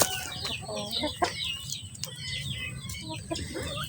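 Several chickens cluck and squawk close by in overlapping bursts, over a low steady background hum.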